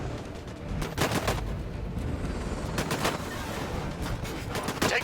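Gunfire in the video game Disintegration: loud, close bursts of rapid shots in clusters, rattling repeatedly across the clip over a dense background of battle noise.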